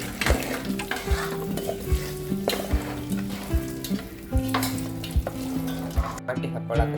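Ingredients for a North Karnataka festival meal sizzling in a pan while a utensil scrapes and stirs in a steady repeating rhythm, close and clear.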